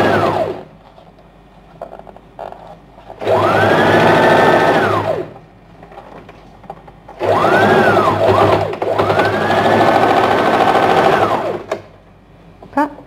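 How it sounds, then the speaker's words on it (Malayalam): A sewing machine stitches a princess-cut blouse in bursts: a quiet stretch, then a loud whirring run of rapid stitching, a pause, and a longer run with rising and falling motor pitch as the speed changes. "ഇങ്ങനെ ഇതങ്ങ് സ്റ്റിച്ച് ചെയ്ത് വരിക"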